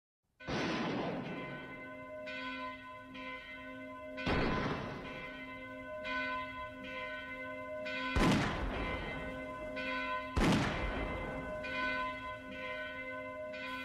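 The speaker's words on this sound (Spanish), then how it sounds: "se volvieron a oír nuevos tiros y un lejano sonido de campanas" Large bells toll slowly, four deep strikes with long humming decay between them, sounding somewhat distant and reverberant.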